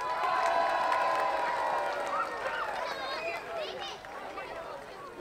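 A large outdoor crowd at a Christmas lights switch-on in Bellevue Park, Wrexham, cheers and applauds a band, a loud, steady wash of clapping and whoops with shouting voices mixed in, tailing off slightly toward the end.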